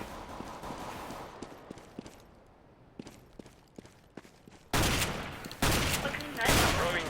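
Gunfire in the video game Counter-Strike: Global Offensive crackles as a run of sharp, rapid shots, fainter at first and then heavier, louder bursts toward the end.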